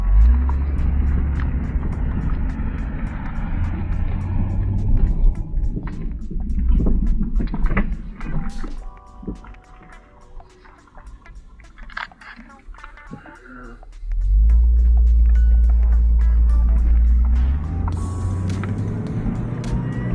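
A car driving down a road, its engine rumbling low and close with a strong drone that eases off midway and then swells back louder, with someone talking over it.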